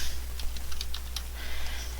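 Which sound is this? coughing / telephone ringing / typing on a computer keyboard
typing on a computer keyboard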